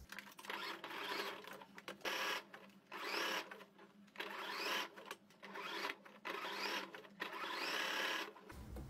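A sewing machine runs in repeated bursts of rapid stitching, laying a narrow zigzag seam along the edge of a bath towel, with short pauses between runs and no talking.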